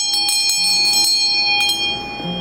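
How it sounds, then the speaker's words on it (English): A teacher's hand bell rings in rapid repeated strokes, bright and close, with sustained metallic overtones ringing throughout and no talk over it. "I'm gonna ring the teacher's bell because that's a great question."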